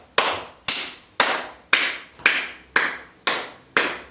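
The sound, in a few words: hands clapping during yoga exercise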